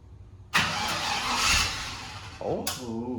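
A car engine is cranked and catches, with a sudden loud burst that holds as a rough, roaring run, then a second surge near the end with a wavering tone over it.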